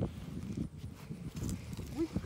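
Horses moving close by on an outdoor road, with soft hoof clip-clops and shuffling steps over about two seconds, mixed with low background rumble and voices.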